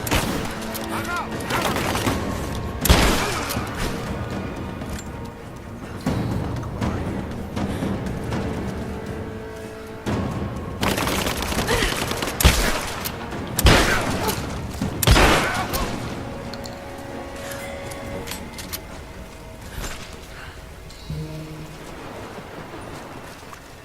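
Repeated gunfire in the game Rise of the Tomb Raider, sharp shots and rattling bursts scattered throughout at varying distances, over a steady hiss like rain.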